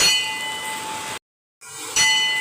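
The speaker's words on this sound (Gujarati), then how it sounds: "બેલનો અવાજ એ કેવો મસ્ત આવ્યો" A temple bell at a Meldi Ma shrine rings with bright metallic clangs, a sustained ringing tone, a short gap of silence, then another strike, close and loud.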